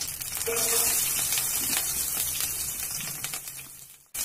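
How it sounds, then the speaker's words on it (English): Mustard seeds and red and green chillies splutter in a couple of spoons of hot cooking oil, a steady close crackling sizzle with faint pops throughout that cuts off at the end. "Take a 2 spoon of cooking oil and a pinch of mustard and allow it to splutter."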